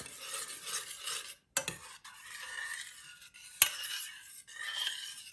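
Ingredients for a lentil vegan loaf, including ketchup, are whisked in a bowl, giving quick scraping and swishing strokes up close with a couple of sharp clinks against the side.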